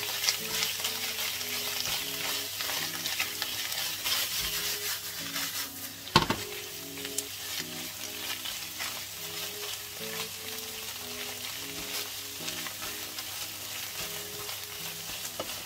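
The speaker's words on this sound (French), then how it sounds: "On met maintenant un petit peu de sel, un petit peu de poivre. Et vous mélangez bien." Spinach being stirred in a pan with salt and pepper, a continuous soft sizzle and scraping rub from the utensil with one sharper knock partway through, steady and close with no voices.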